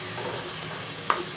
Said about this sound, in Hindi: लहसुन अदरक में जब आप चिकन को फ्राई करेंगे